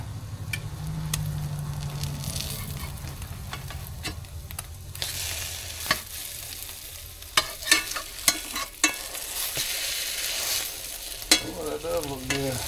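Flipped slices of homemade French toast fry in a pan with a soft sizzle, punctuated by scattered spatula clicks and scrapes, close and moderately quiet.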